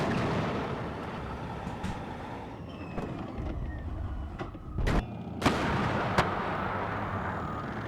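Artillery fire in the war game WARNO, a few sharp blasts and thuds over a low rumbling battlefield background.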